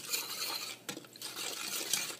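Sugar being stirred into rice-cake batter for Vietnamese steamed cakes, a utensil scraping and swishing continuously around a bowl with faint clinks, close and steady throughout with no talking.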